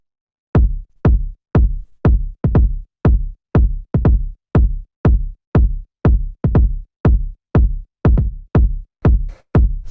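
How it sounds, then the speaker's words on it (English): A fat, thumpy deep house kick drum repeats steadily about twice a second, loud and close, each hit booming deep and short with no other sound around it. "really fat, thumpy kick"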